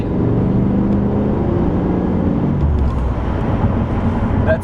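A 1988 Chevrolet Camaro Z28 IROC with a 5.7-liter V8 and rear-wheel drive rumbles loudly and steadily close by, its deep engine note holding for several seconds with a slight shift partway through, with no voices over it.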